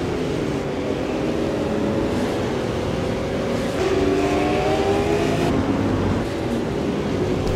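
A pack of super late model race cars roars around the track in a continuous, loud engine drone, several cars overlapping with rising and falling revs as they pass.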